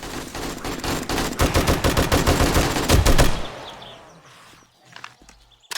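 In 7 Days to Die, a gun fires in a rapid, loud, close automatic stream for about three seconds, then stops, followed by quieter shuffling and a few faint clicks.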